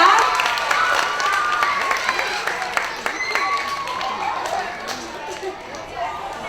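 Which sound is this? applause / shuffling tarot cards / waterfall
applause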